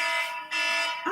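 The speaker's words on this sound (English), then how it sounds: "That's my alarm saying something." A piercing, steady electronic alarm shrills in a kitchen while salmon croquettes fry, loud and close with a brief dip midway, and a voice starts at the end.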